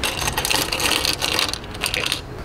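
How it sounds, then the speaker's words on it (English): Small metal bolts from a car engine-bay dress-up bolt kit jingle and clatter as they are grabbed by hand, giving a dense, loud, continuous metallic rattle close up. "And then we're gonna grab the bolts."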